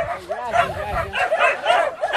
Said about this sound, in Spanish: ¡Wow! Son muchísimos los perros.